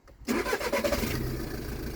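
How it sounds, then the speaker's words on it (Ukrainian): A cold car engine cranks briefly and catches, settling into a steady, somewhat rough idle close to the microphone. "Завелася чітко, значить"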